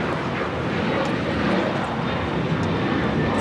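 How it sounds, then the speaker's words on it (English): American Airlines Boeing 737-800 taking off from Los Angeles LAX, a steady, broad engine roar at moderate distance that holds evenly throughout with no voices. "This is American Airlines 1899 taking off to Indianapolis on the 737-800"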